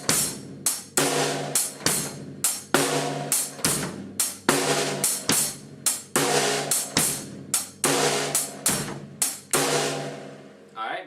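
A drum kit plays a basic rock beat, with bass drum on beats one and three and snare on two and four, under a continuous cymbal wash. It is steady, close and loud, with no talking.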